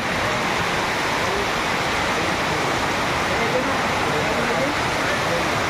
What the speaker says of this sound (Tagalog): Ano, grabe ang ulan.